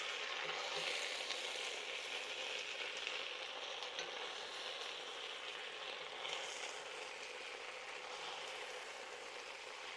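Pork and vegetables sizzle loudly in a crowded stir-fry pan, a dense, continuous frying hiss close up with faint rustling as the food is tossed.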